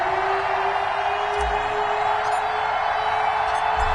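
Stadium crowd at a New England Patriots vs Miami Dolphins NFL game, a steady, dense wash of cheering and whooping from many fans, loud and continuous just before kickoff.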